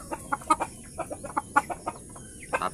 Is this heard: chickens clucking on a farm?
yes